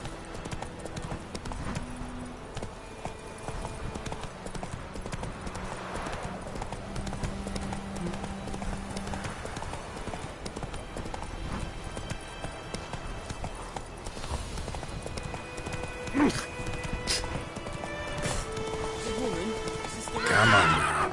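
Horse galloping and neighing in the Witcher 3 video game, with rapid clip-clop hoofbeats throughout and whinnies near the end, set among game ambience and spoken lines.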